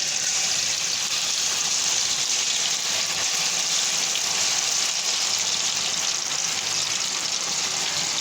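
Steady, dense sizzling of chicken frying in 4 litres of hot groundnut oil, a continuous crackling hiss that stays loud and even throughout with no voices.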